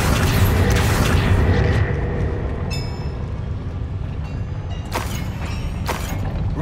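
Bombarda blasting spell detonating in the video game Hogwarts Legacy: a dense, roaring wash of noise with a heavy low rumble, punctuated by a few sharp crackling bursts, loud and continuous throughout.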